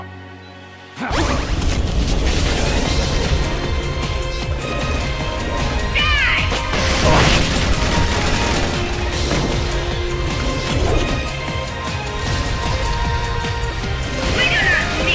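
Missile launchers firing with crashing explosions in the video game Metal Gear Solid: Peace Walker, a dense, loud barrage of whooshes, smashes and booms that stays constant throughout, with game voices over the din.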